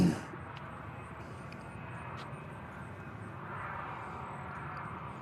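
A Boeing 737-8 jet airliner departs Nashville International Airport, heard as a steady broadband engine roar that holds fairly even throughout and swells slightly toward the end.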